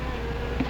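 Wasps buzzing in a continuous low drone from a close-by nest or container, steady and unbroken, with no voices over it.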